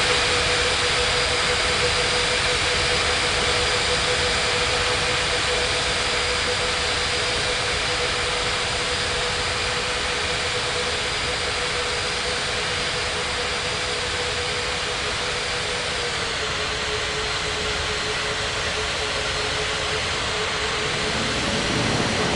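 Jet airliner engines roar continuously while taxiing at Bali airport, a loud, steady broadband rush that holds throughout and eases slightly toward the end, with no talk.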